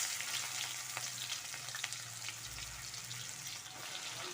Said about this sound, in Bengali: পেঁয়াজটাকে লাল করে ভাজবো।